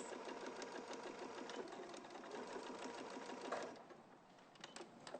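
A sewing machine runs steadily as it stitches around the top section of a piece with a 3/8 seam allowance, giving a fast, even mechanical whirr and tapping up close, slowing briefly near the end.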